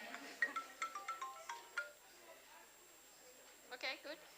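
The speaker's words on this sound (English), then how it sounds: "This is my phone ringing." A phone's melodic ringtone chimes quietly in short repeated notes, with a voice speaking faintly nearby.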